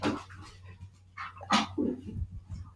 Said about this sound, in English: These dogs are being crazy today.